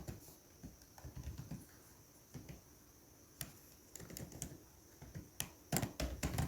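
Keys on a computer keyboard are tapped in short, uneven bursts with brief pauses between them, soft and close, ending in a quicker flurry of clicks.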